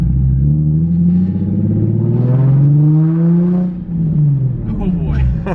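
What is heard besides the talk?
loud Nissan 350Z exhaust driving on street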